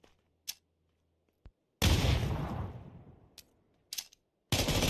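A grenade blast and bursts of gunfire in a video game: a loud explosion decays over about a second, followed by sharp, sporadic shots, with near silence between them.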